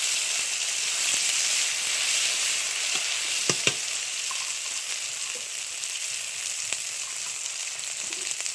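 Chili, cumin and onion pastes frying in a hot pan give a loud, constant sizzle and hiss, with a few sharp clicks and light stirring scrapes near the middle and no voices.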